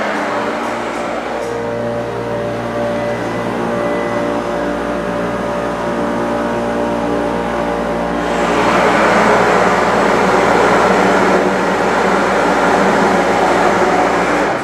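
An OTIS Series 1 hydraulic elevator at 147 Main St. in Lodi, New Jersey runs with a steady low motor and pump hum, growing louder and rougher partway through as the car travels, with no talking.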